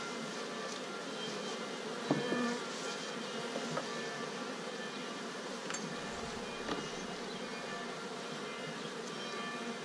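Honeybees buzzing in a continuous, moderately close drone as they are brushed off a brood comb at a hive, with a few faint knocks and rustles of handling underneath.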